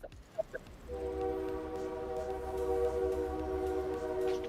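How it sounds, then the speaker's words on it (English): A train passing, with a long, steady, multi-tone horn blast that sounds after a couple of brief clicks and holds loud over a low rumble of rolling wagons. "Train coming through."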